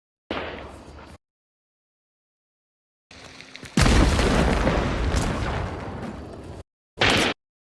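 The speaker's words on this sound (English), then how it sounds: "Look at this guy shooting me through the corner of the building." Enemy gunshots fired through a brick wall in the Hunt: Showdown video game come as short booming bursts, including one heavy blast with a long rumbling tail and a sharp final shot, separated by dead silence.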